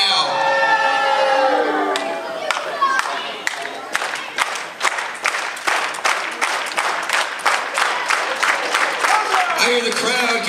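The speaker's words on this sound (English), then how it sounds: "I hear the crowd getting behind Zane Stevens here." A wrestling arena crowd cheers and claps for Zane Stevens in a match against Hoss Bryant, with a dense run of sharp hand claps and a continuous roar of voices filling the hall.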